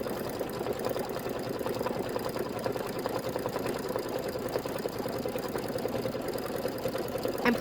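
A sewing or embroidery machine stitches a Kimberbell pie block, a steady fast whirring hum that runs evenly and alone throughout.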